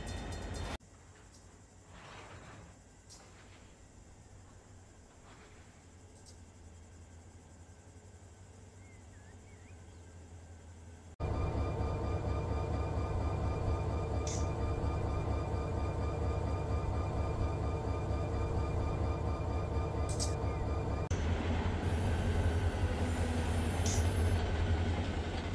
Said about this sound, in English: let's get the brakes on here, and we will start slowing the train down